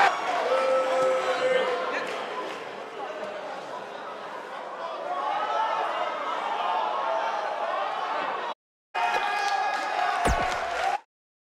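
A live arena crowd roars and cheers in the wrestling video game WWE 2K19, a continuous swelling din under a commentator's voice, briefly cutting out before resuming.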